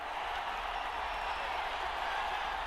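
A stadium crowd in Madden NFL 23 roars steadily as a dense, constant wash of cheering that sounds distant and evenly sustained, with no distinct peaks.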